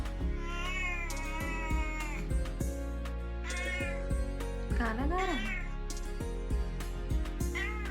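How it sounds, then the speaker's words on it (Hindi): A cat meows repeatedly nearby, drawn-out plaintive cries between short spoken remarks, over a constant low background hum. "इधर बिल्ली है।"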